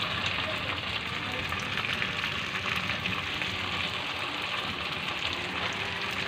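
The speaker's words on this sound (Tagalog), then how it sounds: "Unahin ko muna pagprito yung lumpia. Yung lumpiang toge." Lumpiang toge, bean sprout spring rolls, frying in hot oil in a pan, a steady crackling sizzle throughout with speech over it.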